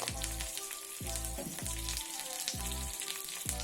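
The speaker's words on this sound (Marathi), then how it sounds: "फोडणीमध्ये मिरची आणि कढीपत्त्याचे पाने छान तडतडून झाल्यानंतर गॅस बंद करून घेऊयात" Green chillies and curry leaves crackle and sizzle in hot oil for a dhokla tempering, a steady close hiss with no voices.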